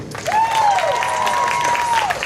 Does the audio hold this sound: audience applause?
yes